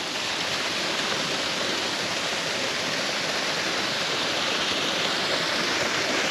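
Creek water pours over a stone dam built by the CCC at Lockhart State Park in Texas, making a loud, steady, unbroken rush heard up close with no voices.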